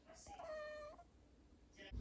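An indoor pet cat gives a single drawn-out meow, close and fairly clear, with quiet room sound around it and a short thump at the end.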